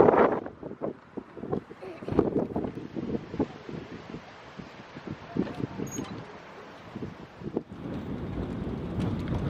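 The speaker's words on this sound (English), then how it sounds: "It's pretty windy today" Blustery wind on the Kattegat coast near Varberg, Sweden, rumbles and buffets against the microphone aboard a sailboat, steady and close, with gusty low roaring swells throughout.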